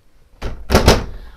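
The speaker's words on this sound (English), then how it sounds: "So you can pull that out all the way, and then again, it's gonna be a soft close, so you can pull that in and it'll catch itself and close." Soft-close drawer in a 2023 Canyon Star 3957 motorhome, a quick slide out followed by a second sliding stroke and a cushioned catch as it shuts, near and clear with nothing else around it.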